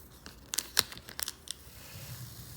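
Vinyl decal peeled slowly off a 2017 Nissan Maxima Platinum, quiet close crackling and tearing bursts in a short cluster, then fading to faint background.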